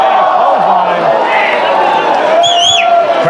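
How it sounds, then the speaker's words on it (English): A wrestling crowd at a midget wrestling show roars steadily after a clothesline, a dense, loud wash of cheering that runs throughout with a few higher shouts and whistles rising above it. "Crowd liking that clothesline."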